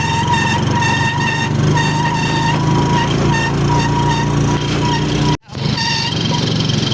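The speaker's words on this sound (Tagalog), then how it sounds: "Here at the tricycle." Motorized tricycle engine droning loudly and steadily while riding through a provincial area, with a brief dropout near the end before the hum resumes.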